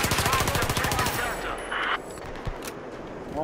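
Gunfire aimed at an APC in the video game Battlefield 4, a rapid automatic burst for about a second, then sparser shots and game noise.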